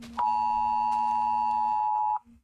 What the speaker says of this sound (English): Thank you, phone, for screaming about the thunderstorm warning.